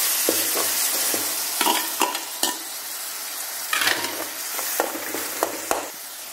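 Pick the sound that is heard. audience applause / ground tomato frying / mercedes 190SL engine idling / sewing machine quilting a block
ground tomato frying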